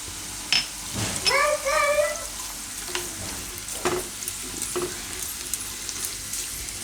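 Asafoetida dropped into hot oil in a pot for a Gujarati radish and beet curry crackles and sizzles up close, with a few clinks and taps of a spoon against the pan over a steady frying hiss.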